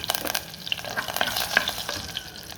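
Loud crackling sizzle and popping of curry leaves hitting hot oil, close up, with irregular spits and a stirring scrape, no voices.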